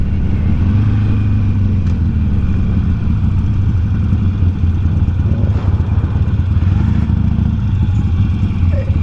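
Motorcycle engine running at idle after a ride on Morro Road, a loud, close, continuous low rumble with slight clatter and no speech over it.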